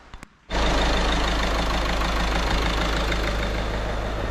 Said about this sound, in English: So the van's all up and running.